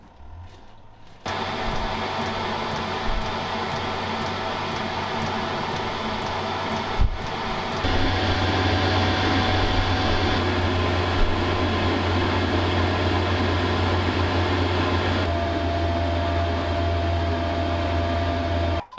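An Autotherm diesel heater on a 1940 wooden seaplane tender starts up and runs with a steady mechanical whir and fan-like hum, stepping louder partway through and holding at a constant drone with no voices.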